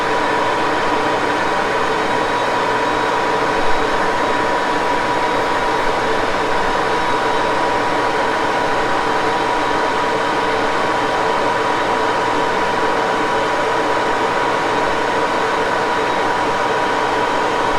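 Metal lathe turning a taper at doubled feed, giving a steady, continuous machining drone with a broad hum that stays level and close throughout, without speech.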